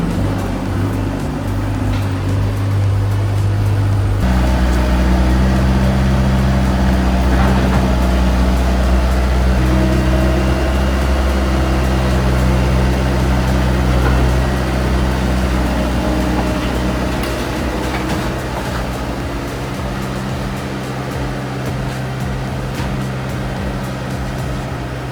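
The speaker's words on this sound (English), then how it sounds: "the Hitachi excavator carefully peels back, fill around a manhole," Hitachi excavator working close by, peeling back fill around a manhole, with a steady diesel engine drone and hum that shifts in pitch partway through, then holds continuous to the end.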